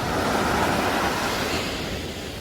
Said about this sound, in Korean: 파도가 잔잔합니다